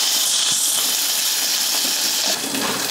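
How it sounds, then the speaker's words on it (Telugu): Slit green chillies fry in hot oil, a dense, steady hiss of sizzling that stays loud and close throughout, with no voices. "జస్ట్ పచ్చిమిర్చి వేయించుకోవాలి కారానికి తగినట్టు"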